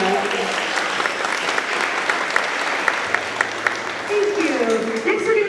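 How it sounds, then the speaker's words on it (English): An audience gives steady applause after a performance by 3rd grade string players, with distinct individual claps within the wash and a voice speaking over it near the end. "Please give them a round of applause."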